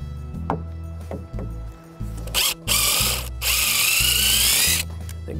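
Cordless drill driving screws into wooden deck railing balusters, whirring in stop-start bursts that rise to a long, loud grinding run as the screw seats, close up with no talk.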